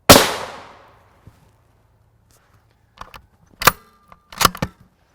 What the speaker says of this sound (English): So we're gonna shoot about 4 inches down on the left side for this